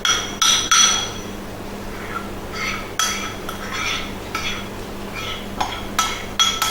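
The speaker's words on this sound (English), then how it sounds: "Might be a little bit of clunking around while I scrape the chocolate." A spoon scrapes and clunks against a bowl while chocolate is worked, giving a run of close, sharp knocks and clinks separated by softer scraping.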